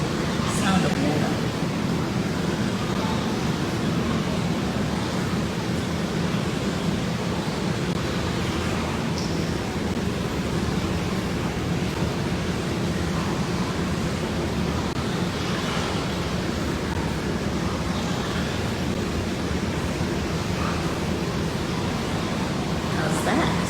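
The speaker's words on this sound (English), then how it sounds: "Just listen to this sound of water." Steady soft wash of moving water in a Japanese onsen hot spring bath fills the whole stretch, a continuous gentle rippling with faint splashes and no voices.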